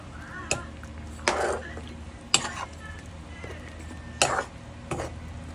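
A spoon stirs saluyot and okra in a cooking pot, making a few scattered scrapes and metallic clanks against the pot while a person talks throughout.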